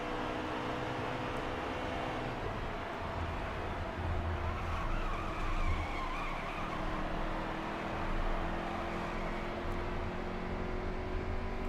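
In the NASCAR Heat 3 video game, a race truck drives at Gateway with a continuous engine drone and tire hiss, holding steady pitch with slight rises, with no talk over it.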